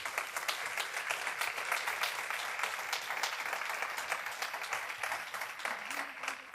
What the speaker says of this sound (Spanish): Yo le daría un aplauso con todo